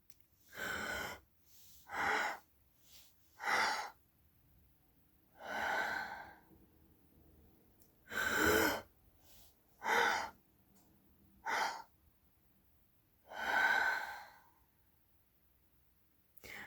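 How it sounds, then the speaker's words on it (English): Repeated deep inhales and exhales from a stacked breathing exercise for the lungs, about eight breaths in an even rhythm, close and soft, with no talking. "by doing this stacked breathing helps open things up"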